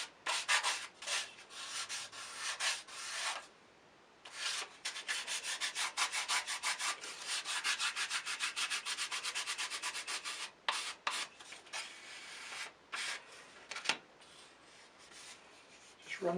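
Medium-grit sandpaper on a flat backing rubs a model rocket part in quiet, close back-and-forth strokes. The strokes come in bursts of rapid rhythm separated by short pauses.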